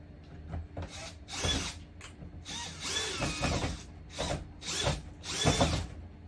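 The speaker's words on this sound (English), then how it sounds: "So I'm going to grab a screw. I got a magnetic head on my screw tip." A power driver with a magnetic-tip bit sinks a screw while installing an RV door lock, giving several close bursts of whirring and ratcheting, each lasting about a second, separated by short pauses.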